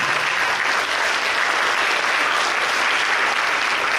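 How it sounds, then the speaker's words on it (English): A large crowd applauds firefighter academy and emergency communications academy graduates at a graduation ceremony, producing a loud, continuous, even wash of clapping that holds steady from start to finish. "One last round of applause for all the graduates."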